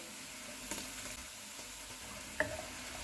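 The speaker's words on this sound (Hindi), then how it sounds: "प्याज फ्राई हो गए हैं, इसमें अदरक और लहसुन का पेस्ट डालेंगे" Ginger-garlic paste frying with browned onions in a pan for aloo pulao, a steady close sizzle with soft stirring scrapes and one brief clink.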